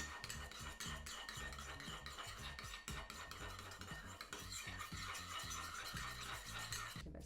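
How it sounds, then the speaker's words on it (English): Sauce ingredients, including ketchup, being stirred together in a bowl with a utensil, a steady close scraping and clinking rhythm running throughout with no talking. "You're literally just gonna mix these all together."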